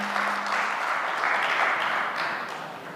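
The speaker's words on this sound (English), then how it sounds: "So claps for Rajiv Mamidana" An audience at a conference claps steadily for about three seconds, a dense, even patter of many hands filling the hall before fading slightly.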